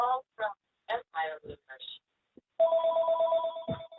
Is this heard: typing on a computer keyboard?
no